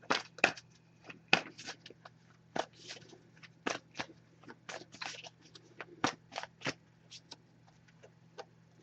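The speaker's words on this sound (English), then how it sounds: "So I'm just going to give this a few shuffles" A deck of tarot and oracle cards being shuffled by hand, heard as quiet, close, crisp riffling bursts in an uneven rhythm against a faint steady hum.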